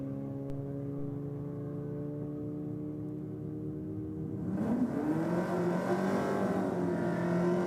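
A VW Golf Mk7 GTI doing a burnout at a race event, its engine droning steadily and then revving up loudly with a rising, rough roar partway through.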